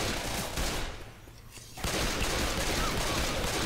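Dense, continuous gunfire crackles in Left 4 Dead 2, briefly dipping quieter before a steady barrage of shots resumes at full volume, with no talking.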